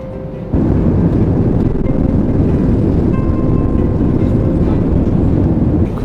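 Inside the cabin of a Eurowings Airbus A320 climbing through heavy turbulence, a loud, steady broadband engine and airflow roar holds throughout, with no talking.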